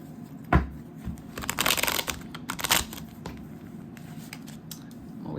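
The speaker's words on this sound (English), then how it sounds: "I'm gonna start shuffling here" Tarot cards are shuffled by hand, a burst of rapid riffling and slapping of the deck in the middle with softer handling clicks around it, close and alone.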